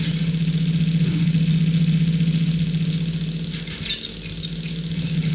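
A motorcycle engine in the Crash Bandicoot 3 video game races with a steady, loud droning hum that holds nearly unchanged throughout and is heard alone without speech.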